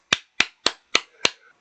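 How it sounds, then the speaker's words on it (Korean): An audience claps in unison for neighborhood and village heads at a community event: five sharp, evenly spaced claps in a steady rhythm, close and clear, with no voices. "그래서 우리 통장 이장님들에게 박수 한번 쳐 주시고 가겠습니다"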